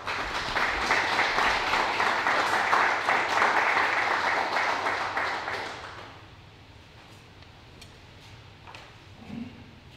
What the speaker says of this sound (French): Je suis pas habitué de me faire applaudir, je me fais huer d'habitude.